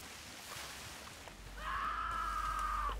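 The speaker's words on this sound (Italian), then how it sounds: "Interveniamo ragazzi, sentite urlare." A person screams in Red Dead Redemption 2: one sustained, strained cry of about a second and a half. It rises over a steady, faint outdoor ambience and low rumble.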